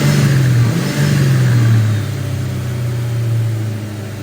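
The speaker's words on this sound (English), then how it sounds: "Got the engine started" A car engine, newly fitted with an SR cold air intake, revs up and settles back toward a steady idle, the low engine note loud and close with no talk over it.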